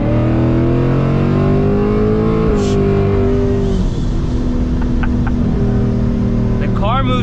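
An 800 hp ESS supercharged S650 Mustang GT accelerating hard, its loud engine note climbing steadily through the revs, dipping briefly at a gear change, then rising again with supercharger whine, as voices speak over it.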